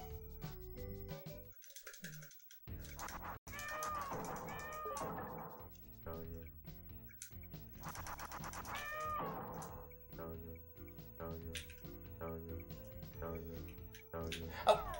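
Cat meows sound repeatedly in the Magic Boy video game, short tonal cries over a steady game music backing, with a person talking throughout.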